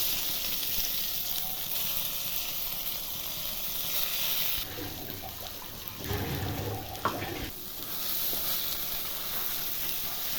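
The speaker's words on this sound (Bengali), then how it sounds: "এইভাবে তেল দিয়ে ভালো করে কষিয়ে দিব, শুকনো করে নেব।" Bathua greens paste with dried red chili and black cumin frying in oil, a continuous close sizzling hiss that briefly gives way to louder bubbling and stirring before the hiss returns.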